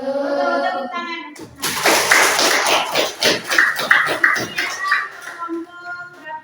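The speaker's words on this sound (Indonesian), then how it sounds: "Betul, tepuk tangan." Classroom of children bursting into brief group hand clapping after a correct answer, with scattered kid voices in the room; a teacher talks before the clapping starts.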